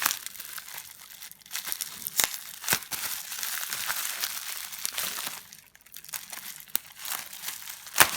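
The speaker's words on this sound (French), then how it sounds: "je vais l'ouvrir tranquille. Ah, c'est bien protégé, tu vois. Emballage bulle." Bubble wrap packaging crinkles and crumples as it is pulled open by hand, with a steady rustle broken by sharp crackles and small pops, close up and with nobody talking.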